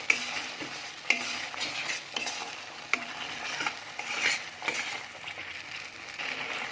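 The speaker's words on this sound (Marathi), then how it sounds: "हा बारीक केलेला गोळा आपण व्यवस्थित भाजून घेणार आहोत" A ground masala paste made with whole spices is roasted and stirred in a pan for a fresh pigeon pea dish, making a soft sizzle with repeated sharp clinks of a metal spoon against the pan.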